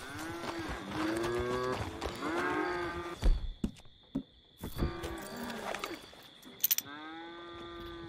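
Cows moo in a video game, several drawn-out, lowing calls one after another, fairly close and loud, with a few thumps and clicks between them.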